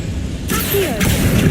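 A Confringo fire spell in Hogwarts Legacy bursts with a sudden whooshing crackle and a sharp pop, then a second hit close behind, loud over low background rumble.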